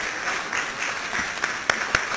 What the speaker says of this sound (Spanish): nuevamente les pido un aplauso para nuestra ponente